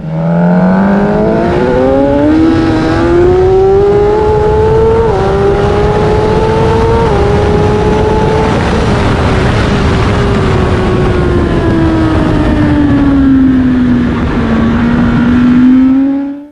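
Loud, close racing motorcycle engine roar rising in pitch through several gears on exiting a corner, each short-shifted upshift cutting in early before the revs climb again, then a long steady drone.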